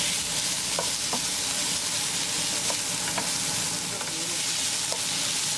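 Paneer being stirred into tindora (ivy gourd) sabzi in a pan over medium gas: a steady bright sizzle of frying with scattered scraping clicks from the spoon, close and continuous with no voices.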